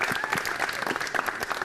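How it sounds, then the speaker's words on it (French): A studio audience at a Mauritian television artist showcase applauds, dense clapping close and steady throughout, with some crowd noise mixed in. "n'applaudissez très fort sa jeune là"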